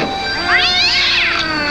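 A single drawn-out, wavering meow, loud and close, rising and falling in pitch over a steady background hum.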